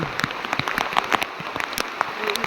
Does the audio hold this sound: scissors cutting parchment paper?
no